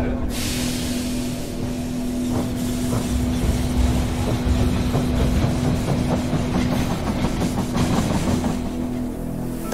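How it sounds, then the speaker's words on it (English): A train arrives at a station in the video game They Are Billions, a rolling rumble of wheels with rhythmic clacking and a hissing brake release under a steady hum, close and continuous. "Train arrived at the station."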